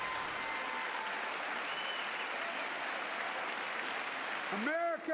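Audience applause during a State of the Union address, a steady even wash of many people clapping at moderate level, with a voice starting to speak near the end.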